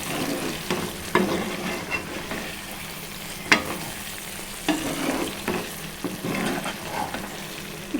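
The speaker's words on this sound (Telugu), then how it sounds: "మూత తీసి మెల్లగా కలుపుకోవాలండి" Stuffed brinjal curry gravy being stirred slowly in a pan, a soft steady sizzle with occasional scraping knocks of the spoon against the pan, close by and with no voices.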